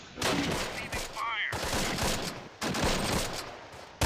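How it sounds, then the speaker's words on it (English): Gunfire in the Close Combat: Last Stand Arnhem wargame, with a machine gun shooting from far back: dense overlapping bursts and crackling shots that run nearly continuously, with a brief lull and a sharp restart. "There's a machine gun all the way back there, then that's shooting us"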